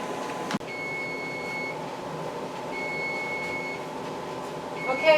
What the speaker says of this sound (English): there is our 20-minute timer